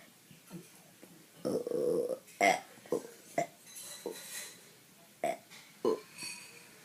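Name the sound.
burping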